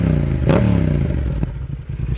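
A brand-new 2024 Yamaha R7 60th Anniversary GP motorcycle engine runs close by, a throbbing idle with one quick blip of revs and some mechanical clatter, no talking.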